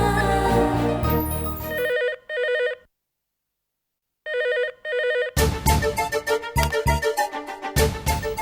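A telephone rings in a domestic setting, a few clear electronic ring bursts set between music and pauses, heard alone with no voices over it.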